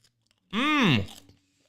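A crunchy snack bitten and chewed close up, one loud crunching burst of about half a second that trails off into quieter chewing, with near silence around it.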